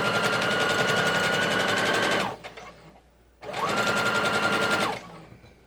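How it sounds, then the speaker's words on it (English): A sewing machine stitches patriotic pineapple quilt block pieces together in two steady, loud bursts of rapid whirring, separated by a short pause. "And now I'm just going to sew these down."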